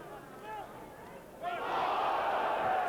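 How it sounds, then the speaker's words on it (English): Rugby league stadium crowd at Hull KR versus Featherstone Rovers erupts in loud shouting over a forward pass, a sudden swell of many voices rising from a murmur and holding, with commentary beneath. "Forward shout the crowd from the pass by Bramall to Robin Jowett."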